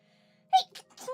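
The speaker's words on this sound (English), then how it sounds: "Sorry. I needed to sneeze." A single sharp sneeze bursts out of near silence, close and fairly loud, followed by a short breathy aftersound, with no talking.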